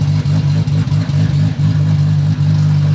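A turbocharged 2JZ-swapped Charger's engine hums steadily at low pitch while the car rolls along, with faint clatter and a few brief dips in level.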